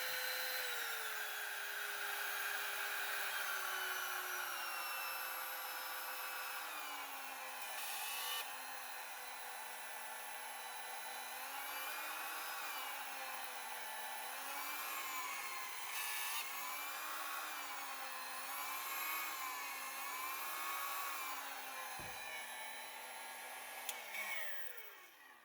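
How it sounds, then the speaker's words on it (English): Kobalt 24V compact router with work lights, running on speed 6 with a grinding sound, a steady high whine with wavering pitch that holds for about twenty-five seconds before spinning down near the end, no talk. "A little bit of a grinding sound in there."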